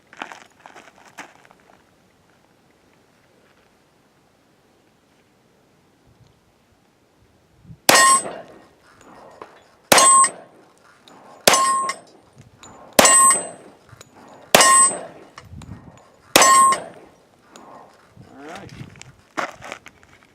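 10mm rounds from a Sig P220 Elite pistol firing 180 grain flat nose full metal jacket ammunition at steel targets, six loud sharp shots each ringing off steel, evenly spaced at about two-second intervals, followed by fainter clatter.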